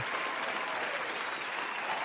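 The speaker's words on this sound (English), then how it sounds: "Give yourself a round of applause." Steady applause, an even wash of clapping from many hands sustained throughout, moderately distant and without pauses.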